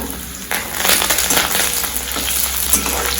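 Garlic frying in hot oil with mustard seeds, a loud close crackling sizzle that bursts in suddenly and keeps up with dense popping and spitting.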